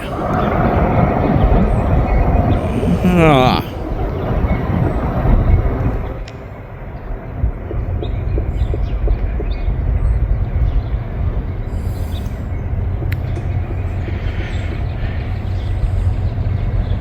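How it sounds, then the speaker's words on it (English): A long BNSF freight train rolls past close by with a loud continuous rumble and clatter of wheels, a brief rising wheel squeal early on, then steady rolling noise throughout. "we got a train coming"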